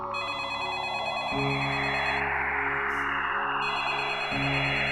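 An electronic telephone ring sounds loud and alone, a steady tonal warble that cycles and shifts pitch every few seconds.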